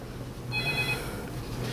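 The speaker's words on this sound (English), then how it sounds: "And I'm getting called." A mobile phone rings during an indoor talk recording, a short electronic tone with steady high pitched partials that sounds briefly over a low background hum and fades out.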